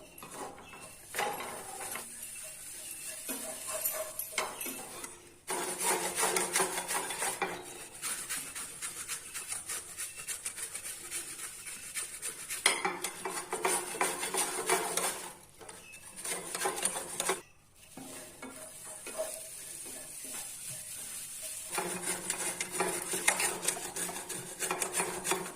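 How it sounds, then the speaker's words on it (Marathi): Peeled raw mango for chutney is rubbed against a grater in long rasping bursts, each several seconds long, separated by short pauses, close and steady with no talking. "आता ही कैरी आपण किसून घेऊया।"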